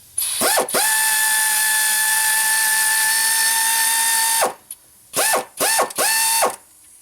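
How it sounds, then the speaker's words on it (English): An air ratchet with an extension and a wobble socket spins out engine mount bolts on a 2007 GMC Yukon, sounding one long loud whirring burst followed by three shorter bursts with brief gaps, no talk. "I've got my air ratchet on there with an extension and a floppy socket."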